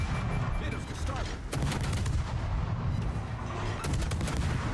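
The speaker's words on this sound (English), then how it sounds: "torpedo hits on the Des Moines." Heavy explosive impacts and gunfire in a naval combat video game as torpedoes strike the cruiser Des Moines, dense booming blasts with a few sharp hits standing out over continuous loud battle noise.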